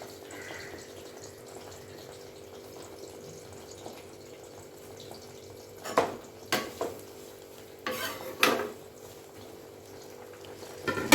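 Hair oil with curry leaves stirred in a pan, a soft steady sizzle underneath with a few scraping, clinking strokes of the spoon against the pan near the end.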